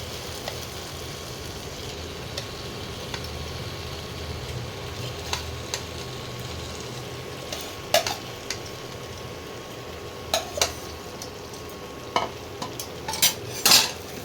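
Young jackfruit pieces are sautéed and stirred in spiced oil in a pan, a soft steady sizzle with occasional scrapes and clinks of the spoon against the pan, growing busier toward the end.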